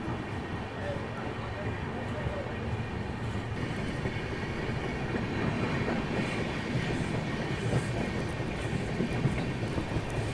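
Patna-Howrah Express pulling out of a junction railway station toward Jamalpur line split, a steady loud rumble of rolling carriages heard from onboard, continuous and close throughout.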